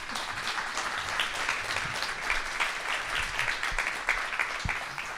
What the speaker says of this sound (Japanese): 皆さん拍手でお迎えください。